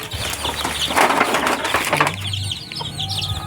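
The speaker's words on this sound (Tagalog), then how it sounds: "papakita ko sa inyo yung ito yung mga alaga ko guys" Backyard hens cluck in short, choppy bursts close to the microphone, with a little wing flapping or shuffling in the middle and quieter clucks trailing off toward the end.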